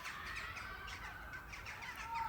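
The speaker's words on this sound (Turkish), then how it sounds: "Kargalar geldi" Crows caw outdoors, a series of rough, repeated calls at moderate distance over a faint background hiss, with no talk.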